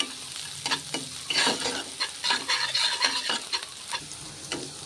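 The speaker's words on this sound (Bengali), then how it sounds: "মশলাটা একটু কষতে থাকি" Spice paste stirred and fried in oil for a Bengali fish curry, a close sizzle with repeated scraping strokes of a spoon and soft clacks in an uneven rhythm.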